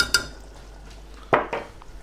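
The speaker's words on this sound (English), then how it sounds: "Let's whisk that in as well." A whisk knocks against a pot while black pepper is mixed into katsu curry sauce, a couple of sharp metallic clinks separated by a short pause, close and fairly loud, with no talking.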